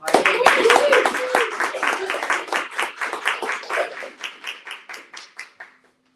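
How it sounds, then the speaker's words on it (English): A small audience claps to welcome a poet speaker at a youth speaker series event, starting with dense clapping that thins into a few steady, evenly spaced claps trailing off to silence. "let's give a warm round of applause for Amy Lee"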